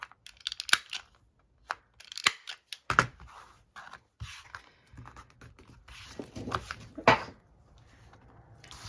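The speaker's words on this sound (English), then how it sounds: "now I'm going to do some corner rounding. I'm going to use the full round part of this punch." Corner rounder punch clipping paper corners at a craft table, a series of sharp separate clicks and snaps spread irregularly over several seconds, close and fairly crisp with small handling rustles between.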